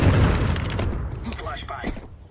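A grenade exploding in Counter-Strike 2, a loud, close boom at the very start that decays into a rumbling tail, with voices coming in as it fades.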